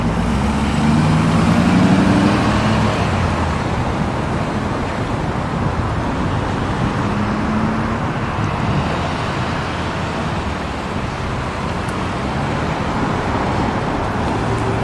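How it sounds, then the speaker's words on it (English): Road traffic rushes past a roadside peace vigil in Casa Grande, Arizona, with cars and trucks passing close and loud in a continuous wash, one heavier pass near the start. "Let's get some traffic here."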